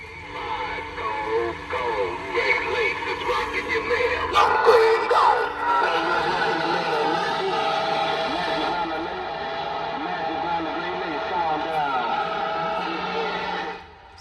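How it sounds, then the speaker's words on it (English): A Midland GMRS unit, set up as a CB radio, hisses with static and warbling, whistling tones from its speaker at a fairly steady level. The noise cuts off abruptly at the end. "you hear those, there's too many, like static sound, and it's not really good to hear it, because it's CB radio"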